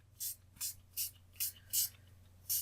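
A spray bottle mists onto book pages in six quick, evenly spaced bursts, each a short close hiss, with a faint low hum underneath and no talking.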